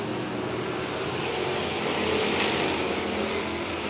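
Race cars lapping a speedway oval during a race, a dense continuous engine roar with a slight swell midway as cars pass, heard from trackside.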